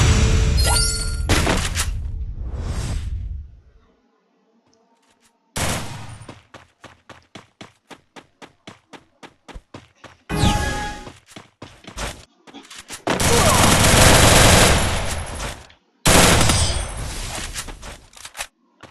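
Gunfire in the Free Fire video game: loud bursts of automatic fire, a run of rapid single shots with short silent gaps between them, and more heavy sustained volleys near and loud, with no talk.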